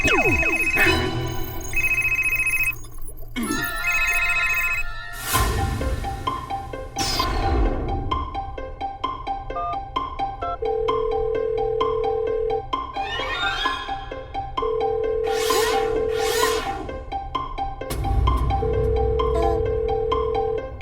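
A telephone rings in repeated bursts with pauses between them, sounding over a busy musical background and never answered.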